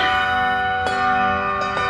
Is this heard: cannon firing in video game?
no